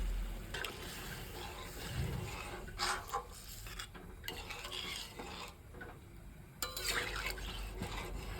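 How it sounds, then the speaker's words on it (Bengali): Water poured into a pan of spice paste frying in oil for Bengali fish curry, bursts of sizzling hiss and bubbling liquid mixed with spoon and pan clatter as it is stirred close up. "এবার দিয়ে দেবো আমাদের জল"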